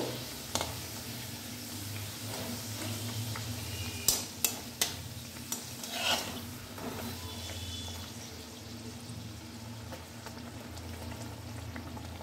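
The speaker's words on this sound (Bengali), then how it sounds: "এইভাবে এক এক করে আমি সমস্ত কচুরি বেলে ভেজে নেব।" Moong dal kachori deep-fry in oil with a low, steady bubbling sizzle, joined by a brief cluster of clinks and stirring knocks midway, quiet and close with no talking.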